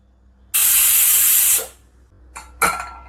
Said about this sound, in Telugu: ఇప్పుడు మూత పెట్టేసుకొని రెండు విజలు వేయించేసుకుందామండి